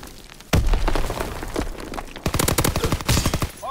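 Gunfire and explosions in a ranked match of the video game Call of Duty: WWII, a loud blast followed by scattered shots and then rapid, evenly spaced automatic bursts, close and punchy.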